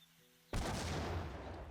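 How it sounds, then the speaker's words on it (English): An explosion from thrown powder in the fantasy role-playing game Gothic II, a sudden loud blast after a quiet moment, followed by a rumbling, crackling decay that fades slowly. "Okay, so it's an explosion that it does."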